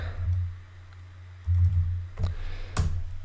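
Rapid typing on a computer keyboard, faint and close, as soft clicks in uneven bursts over a low steady hum, with no voices.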